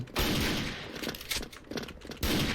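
An AWP sniper rifle fired during a spinning shot in the Special Force shooter game, with loud sharp blasts near the start and end and quieter game noise between them.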